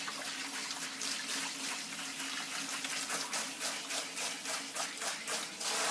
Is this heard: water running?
yes